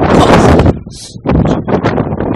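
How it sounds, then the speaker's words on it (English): Gusty wind blasts across an outdoor microphone in loud, rumbling bursts separated by brief lulls, with no talking. "Whoa, that's windy."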